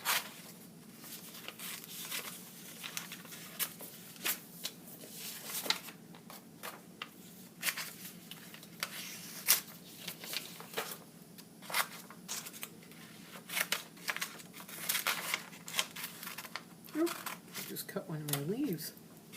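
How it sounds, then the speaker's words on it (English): Scissors snipping out paper pieces at close range, a run of light irregular cuts and crinkles with brief rustling, and quiet talk in between. "So I'm going to start cutting mine out."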